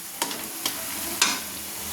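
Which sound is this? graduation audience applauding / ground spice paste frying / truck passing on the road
ground spice paste frying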